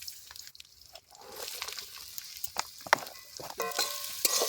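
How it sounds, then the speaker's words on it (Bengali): Onions and carrots fry in a hot pan as a spatula stirs them, giving a quiet sizzling hiss broken by scraping clicks and wet squishes that grow busier toward the end. "পেঁয়াজ আর গাজর দিয়ে দেবো।"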